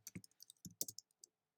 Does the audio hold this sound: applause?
no